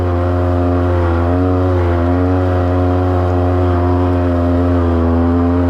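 A 2003 Polaris Sportsman 700 quad climbs a rocky hill, its engine droning loud and close with a strong steady harmonic hum under load and slight pitch waver, no voices.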